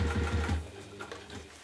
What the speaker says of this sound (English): I know that I am sewing this